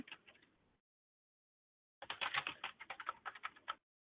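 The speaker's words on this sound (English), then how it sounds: "And just to be clear, that's not me typing." Rapid clicking of keys on a computer keyboard, a short burst, a pause, then a longer busier run of typing, fairly quiet.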